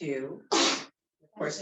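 A single sharp sneeze bursts out mid-session in a Pilates mat class, loud and close, following an instructor's counting voice and followed by a brief pause and more talk.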